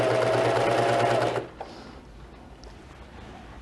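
A serger sewing machine runs steadily for about a second and a half while stitching along a folded fabric edge, then stops abruptly, leaving near silence with a faint click or two.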